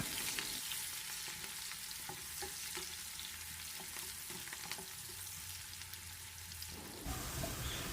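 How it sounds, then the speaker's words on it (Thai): Shallots sizzle steadily in hot oil as they fry until crisp for Thai son-in-law eggs, a dense, even crackle that runs unbroken for several seconds before ending abruptly, with no talk. "ต่อไปนำหอมแดงลงไปเจียว เจียวให้หอมกรอบเลยค่ะ"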